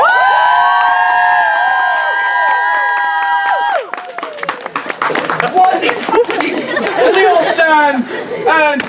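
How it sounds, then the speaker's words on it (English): A theatre audience at a Christmas-themed Hamlet parody performance breaks into loud cheering and excited chatter after a sung line, close and lively with shouts and clapping mixed in. "And the crowd cheers!"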